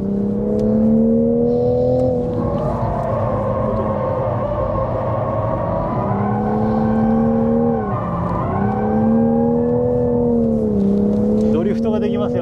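A Toyota GR Supra with a manual transmission drifts on a track, its engine a loud, continuous drone that swells and dips in pitch as the throttle is worked, with no pause for the full stretch.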